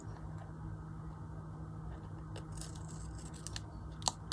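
Scissors snip off a piece of material while a mermaid figure is being made, giving several quick, close, crisp cuts in the second half over a steady low room hum.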